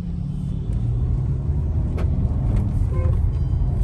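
A Mercedes-Benz E 200 on a test drive gives a steady low engine and road rumble from inside the cabin, continuous and moderately loud, with a few faint clicks and no talking.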